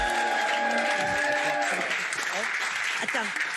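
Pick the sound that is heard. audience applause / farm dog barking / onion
audience applause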